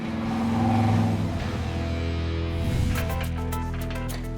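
A car engine with an open side exhaust rumbles loudly, building with a deep, throaty roar and steady idle-like pulses, close by.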